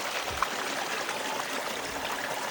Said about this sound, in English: We got these little waterfalls.